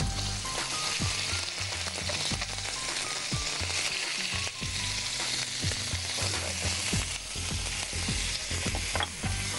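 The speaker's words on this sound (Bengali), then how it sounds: "একটু নাড়া দাও।" Spices frying in a pan for a Bengali home-style dish, with ginger paste and turmeric powder, are stirred with sharp scraping strokes over a continuous loud sizzle.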